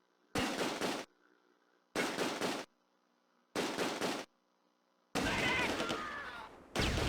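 Gunfire from the WWII strategy game Close Combat: A Bridge Too Far, set in Veghel during Operation Market Garden: four sharp, loud bursts of shots in a steady rhythm, the last one longer and denser.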